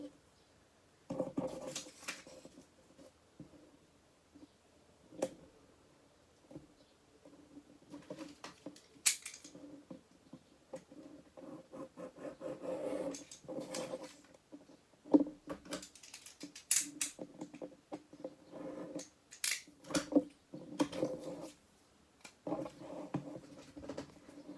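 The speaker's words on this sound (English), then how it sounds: "I am going to cut that out" Scissors cut a word out of paper for an accordion book journal project, giving intermittent crisp snips and paper rustles up close over a long stretch, with short pauses between bursts of cutting and no talking.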